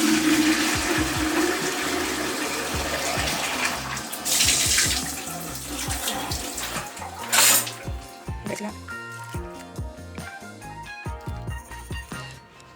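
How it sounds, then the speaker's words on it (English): A watering can fills from a tap in a home during houseplant care, a rushing stream of water that changes pitch as the can fills, broken by clunks and handling noises, with the flow easing toward the end. "I have a watering can and I'm gonna fill it up"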